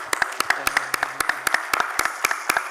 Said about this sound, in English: let's give a round of applause to all of our presenters